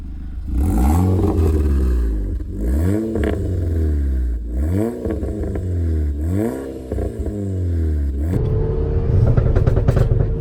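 A Volkswagen Golf 6 R tuned to Stage 2+ revs hard with its exhaust valves open, repeated loud climbing sweeps that drop back between pulls, then a steady louder drone near the end, close and without talk.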